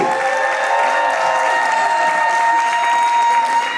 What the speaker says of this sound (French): Applaudissez, ne soyez pas jaloux.